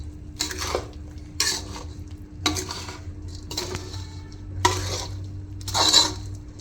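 Coconut barfi mixture stirred in a pan with a spoon, six scraping, clinking strokes at roughly one-second intervals against a quiet background hum.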